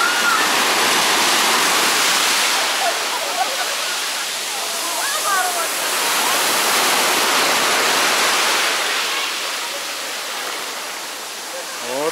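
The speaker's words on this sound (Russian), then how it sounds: "Смотрите, какая волна идет." Sea waves crash and wash onto Cleopatra Beach in Alanya, Turkey, a loud, continuous roar of surf that swells and eases slightly over twelve seconds.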